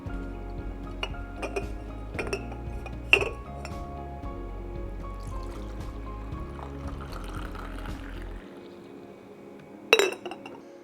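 Coffee poured into a cup, with light clinks of cup and glassware over a low steady background hum, the pour trailing off as the hum stops, then a final clink.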